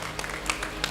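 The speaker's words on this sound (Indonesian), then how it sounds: "Tepuk tangan untuk para orang tua kita yang ada di belakang," Scattered applause for the parents at a graduation ceremony, a brief burst of clapping from the audience that stays thin and moderately distant.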